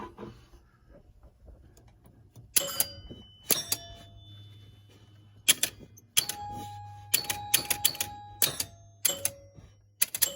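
Chimes ring out from a Gottlieb Sky Jump electromechanical pinball machine under repair, sounding in bright irregular strikes and short clusters over a steady low mechanical hum, close and clear.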